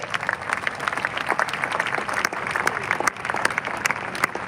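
A church congregation applauds as a pastor walks forward before his exhortation at a funeral service, a dense steady clapping from many hands in a room with a few crowd voices mixed in.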